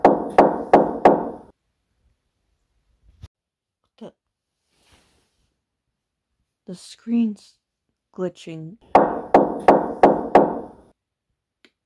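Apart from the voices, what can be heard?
knocking on a door, from video game Minecraft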